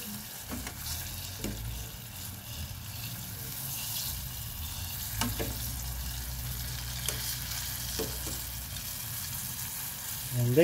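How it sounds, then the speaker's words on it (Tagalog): Adobo-marinated, breaded chicken necks fry in a pan of oil with a steady, dense sizzle, broken by a few sharp pops and ticks. "naluluto na yung aking fried na leeg"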